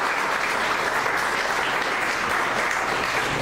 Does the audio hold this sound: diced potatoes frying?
no